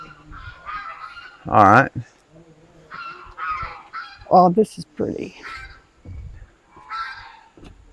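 Geese honk loudly nearby in several harsh, nasal bursts near an old grist mill, mixed with people talking quietly between the calls.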